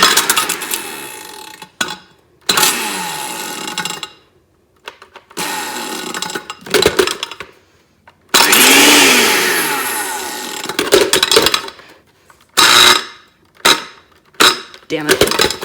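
A blender motor whirs in loud, bursty runs as an iPhone 5s is ground up inside it, with several pulses stopping and starting and brief gaps of silence between them.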